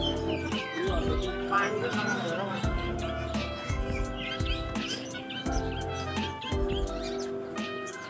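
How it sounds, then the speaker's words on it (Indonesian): Small percil birds chirp and tweet repeatedly at close range at a market, with bright overlapping calls and background bustle and voices underneath. "Burung percil."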